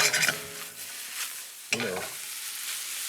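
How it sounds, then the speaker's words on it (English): Potatoes sautéed in hot fat in a pan, a loud crackling sizzle with two bursts of tossing and stirring, the second sharper, then a steady lower frying hiss, no talking. "Now you want to saute it, a couple of times to get a little bit of the fat inside the potato itself."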